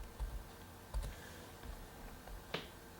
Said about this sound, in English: that was just using the plus or minus keys